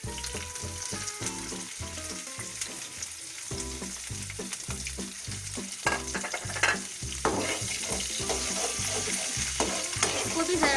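Crushed garlic and green chili sauté in a pan, a continuous sizzle with repeated stirring scrapes running steadily throughout, close and fairly loud.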